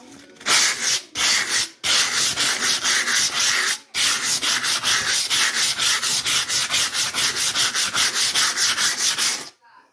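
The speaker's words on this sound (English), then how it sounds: "now you have to sand it. And it came with sandpaper." Sandpaper scrubs over Daich Spread Stone countertop paint in close, loud, steady back-and-forth strokes, with a few short pauses early on before a long, even run of rapid rasping that stops at the end.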